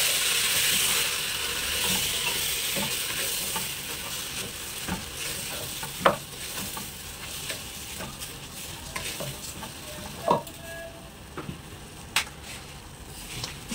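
Food being stirred in a pan after salt goes in during home cooking in Egypt: a steady frying sizzle carries throughout, broken by sharp scraping and clinking taps of the spoon against the pan, with no talking.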